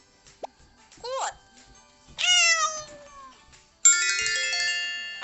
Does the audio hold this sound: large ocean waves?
no